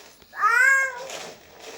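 A cat gives one clear, drawn-out meow close by, rising and then falling away, with a faint trailing sound after it.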